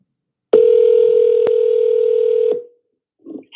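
A steady telephone tone sounds loud and close for about two seconds after a call is hung up, with a brief click partway through, then cuts off into near silence.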